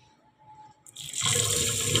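Rice is washed under running water: after a quiet start, a tap gushes on and a steady, close splashing stream fills the rest.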